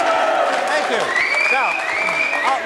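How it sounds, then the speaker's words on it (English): Applause from a radio show's studio audience for a performing group, steady clapping under a voice speaking, with a whistle-like tone sliding through the middle. "give them a nice round of applause"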